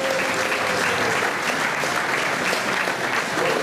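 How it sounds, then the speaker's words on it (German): An audience at a mountain bike race award ceremony claps for the winners, a dense, steady burst of applause heard close and loud throughout. "Ich glaube, wir können Ihnen auch mal einen Applaus spendieren"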